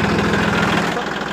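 A Massey Ferguson 9500 Smart tractor engine idles steadily at low RPM in first gear, a continuous close mechanical rumble with a low throbbing pulse and no speech over it.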